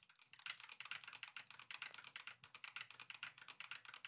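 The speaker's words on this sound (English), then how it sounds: "I'm currently like pressing keys on my keyboard" Rapid clacking of a computer keyboard, keys pressed in quick uneven bursts, close up and fairly loud with no voices.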